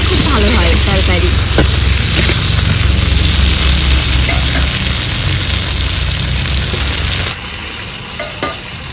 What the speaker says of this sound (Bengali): বেগুনগুলো ভাজা হতে লাগুক